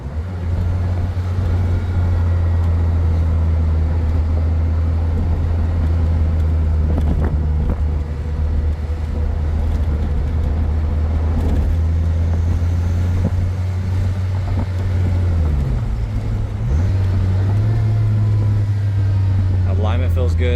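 A 1995 Dodge Viper RT/10 on a test drive, its engine a loud, steady low drone from inside the cabin that dips and rises around a gear shift, with someone talking over it.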